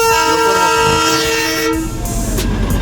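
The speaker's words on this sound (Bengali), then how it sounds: "toy train is coming" A Darjeeling toy train sounds a loud, sustained horn for nearly two seconds in the hills near Kurseong. The horn then cuts off, leaving the rumble of the train and the surroundings.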